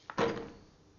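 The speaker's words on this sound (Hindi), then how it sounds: "अबे सिद्धू, ये दरवाजा क्यों नहीं खुल रहा?" A door rattled and pushed but stuck shut in a Hindi-dubbed movie scene, one short knock followed by a heavier thunk, close and brief with no voices.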